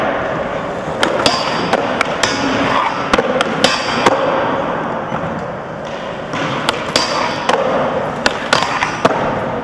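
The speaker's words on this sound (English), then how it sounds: "Every team member has to front side nose grind the whole flat bar" Skateboards grinding front side nose grinds along a flat metal bar at a skate session, with sharp clacks of boards landing and popping among a busy rough rolling and scraping wash, fairly loud and close.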